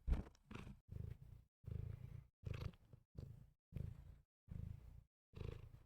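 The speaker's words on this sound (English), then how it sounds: "I think my mic can pick up you purring." Close, rumbling purring in regular pulses, each breath cycle rising and falling in a steady rhythm with brief pauses between.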